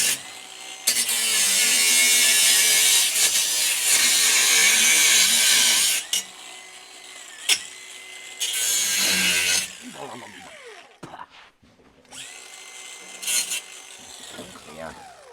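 A power tool cuts through a welded-together part from a Toyota Hilux, running loud with a harsh, gritty tone in several long bursts broken by brief pauses. Scattered clanks and handling noises fill the quieter stretches.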